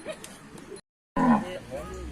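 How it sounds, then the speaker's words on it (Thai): Cattle lowing on a rural farm in northern Thailand, a few deep moos before and after a short silent gap, fairly close with faint background noise. "สามตัวนี้ก็เป็นวัว"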